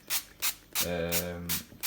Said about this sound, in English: give them all a quick spray with some Fry Light, just stop them sticking, help them cook a bit